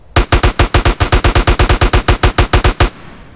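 Gunfire in Grand Theft Auto San Andreas, a loud, close burst of about twenty evenly spaced rapid shots from an automatic weapon, ending abruptly into quiet.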